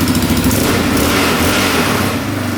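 An ATV quad with a repaired throttle revs hard and loud up close, its engine buzzing high and rough in one continuous run with no talk over it.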